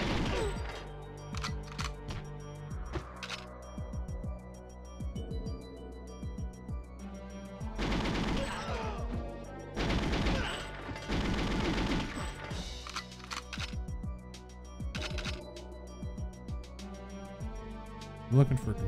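Rapid bursts of gunfire from the video game GoldenEye 007, set in water caverns, with clusters of loud overlapping shots over steady game music while a player talks throughout.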